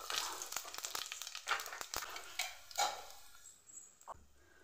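Mustard seeds and cumin fry in hot oil, giving faint crackles and sharp pops in irregular bursts that fade toward the end, with no talking.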